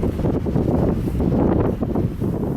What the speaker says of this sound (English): it is windy, but it's nice out today